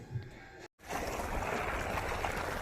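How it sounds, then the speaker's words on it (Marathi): Water runs and gushes steadily onto grass being irrigated, a continuous close rushing flow that starts after a brief cut of silence. "आता इथे आपलं पाणी भरायचं काम चालू आहे आणि आता घासाला पाणी चालू आहे"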